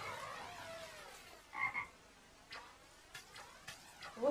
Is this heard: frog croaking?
yes